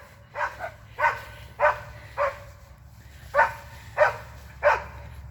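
Several dogs bark repeatedly at a squirrel on the other side of a fence, giving about eight evenly spaced, moderately loud barks outdoors over a low steady background rumble.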